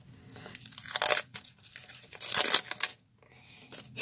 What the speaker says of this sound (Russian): И распакуем его.